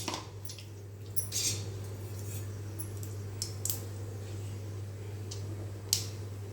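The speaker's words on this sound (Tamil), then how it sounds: "கடுகு நல்லா பொரியட்டும்" Mustard seeds crackle and pop in hot oil in a kadai while making nellikai rasam, sharp scattered spits over a steady low hum, with no talking.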